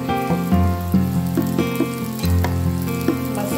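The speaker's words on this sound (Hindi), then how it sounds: "मसाला बिल्कुल ही अच्छे से भून चुका है" Masala for a halwai-style parwal (pointed gourd) curry fries in a pan with a steady close sizzle, with occasional stirring bumps and soft clinks over a constant low hum.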